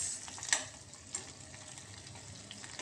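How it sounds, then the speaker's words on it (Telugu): Salted fish frying in a pan makes a quiet, continuous sizzle, with a couple of brief sharp clinks or scrapes near the start, heard alone and fairly faint. "ఉప్పు చేప ఫ్రై గాయస్."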